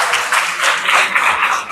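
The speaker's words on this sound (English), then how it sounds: "Can we give him a round of applause, please?" An audience at a finance talk in Singapore applauds the speaker, a brief burst of many hands clapping in a continuous close patter with no speech.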